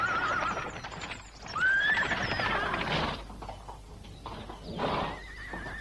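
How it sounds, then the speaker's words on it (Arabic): Horses neigh in several loud, shrill whinnies, with hoof clip-clops and stirring in the background and no talking. "صهيل خيول."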